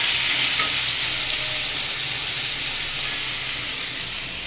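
Cucumber and potato fry in oil with a mustard seed tempering, making a loud, steady, dense sizzle that holds evenly throughout with no talking.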